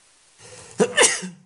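A single sharp, explosive sneeze followed by a short burst of breath, heard up close in an otherwise quiet room.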